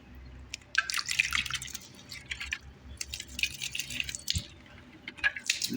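Water splashes and drips intermittently while potted plants are watered outdoors, in irregular bursts of pattering and trickling close by, with quiet pauses between pours.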